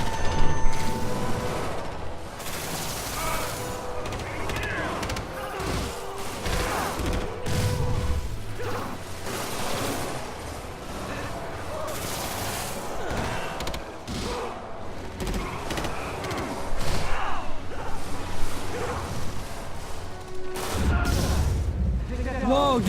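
Enemy gunfire in the Marvel's Spider-Man game, dense repeated shots and crashing impacts filling the whole stretch with a loud, busy game mix while a player talks over it.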